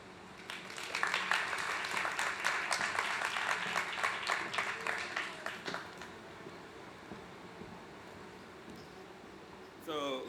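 An audience applauds the speaker Lisa Atia, a crowd's steady clapping rising quickly and holding for several seconds before fading, leaving low room hum at the end.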